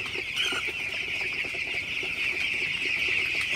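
Several 16-day-old broiler chickens cluck softly nearby over a steady high hiss of background noise.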